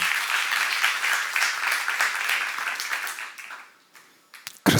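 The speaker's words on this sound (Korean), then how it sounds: "박수 하나 더 해주세요" Congregation applauding during a church sermon, a dense wash of clapping that holds steady for a few seconds, then thins and fades out, with a brief louder burst at the very end.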